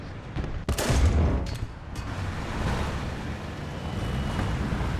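A single heavy tank-gun blast in the video game War Thunder, followed by a low, rolling rumble of explosion noise that lingers without any talking.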